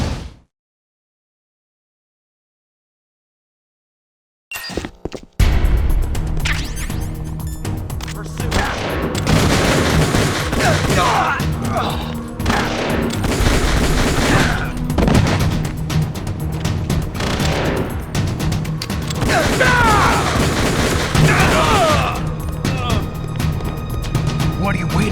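Rapid gunfire and explosive bursts from the video game Metal Gear Solid: The Twin Snakes begin after a brief silence and continue loud and dense throughout, with game dialogue voices mixed in.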